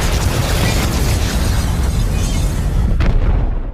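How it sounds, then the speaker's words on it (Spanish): A big power explosion effect in an animated action setting: a loud, sustained roaring blast of dense broadband rumble that holds steady for several seconds, with a sharp burst near the end before it cuts off. "de pronto una gran explosión de poder se expande"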